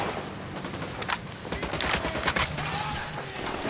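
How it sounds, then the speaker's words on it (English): Rapid automatic gunfire in the shooter Ghost Recon Wildlands, dense overlapping bursts of shots rattling continuously throughout a firefight. "Opening fire."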